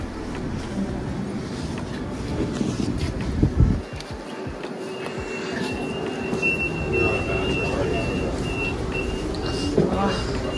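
A train in snowy winter Canada rumbling along with rattling carriages, a brief clattering burst midway and a faint high wheel squeal, with a voice heard over the noise.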